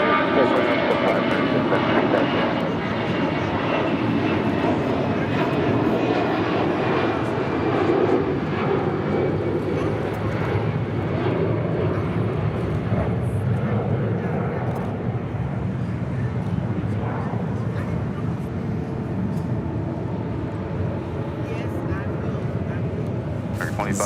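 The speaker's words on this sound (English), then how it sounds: "That was American Airlines Flight 2546 heading to Mexico City in an A319" An American Airlines Airbus A319 taxis at LAX, bound for Mexico City, its steady broadband engine whine running throughout at close range while a voice talks over it.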